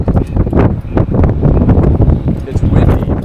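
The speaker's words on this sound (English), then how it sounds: "It's windy." Strong wind gusts roar steadily across the microphone at a wind turbine construction site, loud and continuous throughout.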